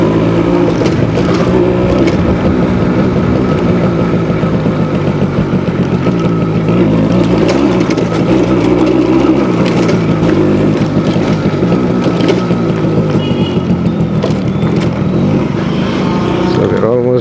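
A Suzuki AX100 motorcycle engine drones loudly and continuously while riding, with rough wind buffeting blended into the steady rumble close to the microphone.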